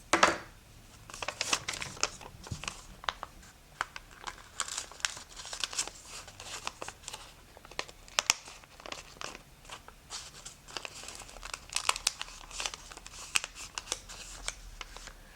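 Origami paper is folded and creased for a modular lily star, with soft close crinkles, rustles and sharp crisp crease snaps recurring irregularly throughout, alone without talk.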